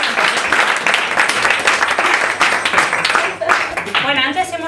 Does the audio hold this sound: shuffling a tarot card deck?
no